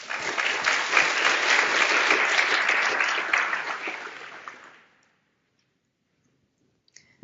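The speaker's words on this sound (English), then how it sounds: "So round of applause for everyone who's here." A conference audience breaks into loud, dense applause that holds for about four seconds, then fades out into near silence with a couple of faint clicks at the end.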